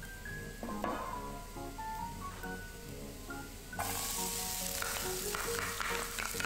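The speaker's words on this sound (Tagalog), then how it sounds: "Haluhaluin lang natin ito habang ginigisa." Garlic sautéing in a pan for tokwa and pork humba gives a steady, close sizzle that swells louder and brighter partway through, with no talking.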